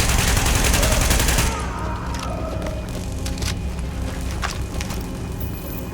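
Gunfire in Tom Clancy's The Division: a dense burst of rapid automatic shots up front, then sparser distant shots and scattered cracks over a steady ambient background, no talk.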